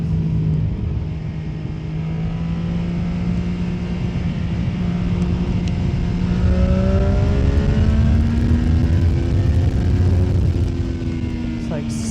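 CFMOTO 675 motorcycle accelerating on the road, a rising engine tone climbing through the gear under heavy wind rumble, steady and close throughout.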